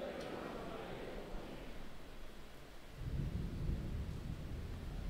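Rain and rumbling thunder outside a church during a Sunday communion service, a low continuous roar that swells louder partway through, with a steady hiss of rainfall underneath.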